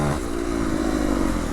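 A twin-cylinder dirt bike engine with a 4-speed gearbox, revving to 12,500 RPM, heard up close as a loud, steady buzzing drone under load.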